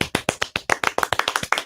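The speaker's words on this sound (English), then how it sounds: "We have loud applause here in the studio." Clapping in a talk radio studio: a close, loud run of sharp hand claps in a quick, slightly uneven rhythm, with no voices over it.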